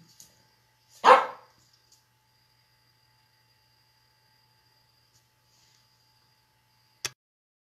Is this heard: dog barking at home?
yes